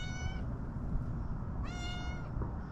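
A shop cat meows twice in a garage, each call a drawn-out, clear cry with a short pause between, heard close over a steady background hum.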